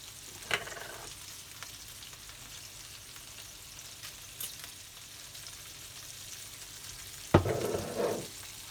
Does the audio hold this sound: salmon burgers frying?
yes